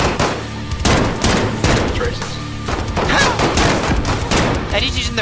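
Rapid bursts of gunfire in Call of Duty Warzone's dark Halloween Verdansk mode, loud sharp shots in fast clusters with thumps, with game voices and players' talk mixed in.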